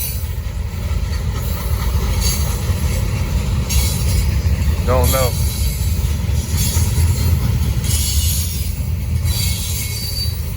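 A freight train rolls past on the Norfolk Southern or CSX line, with loud continuous wheel rumble, rhythmic clatter and a sharp wheel squeal midway, while a person briefly speaks nearby.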